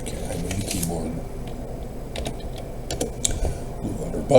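Rapid clicking keystrokes on a computer keyboard, irregular bursts of typing at close range, with a voice talking faintly in the background.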